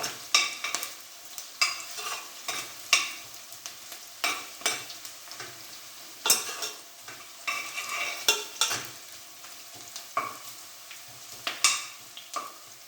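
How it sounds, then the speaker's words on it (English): Onions for chicken biryani sizzle and crackle in a hot pan while a utensil repeatedly stirs and scrapes them, in short bursts throughout. "while the onions are frying"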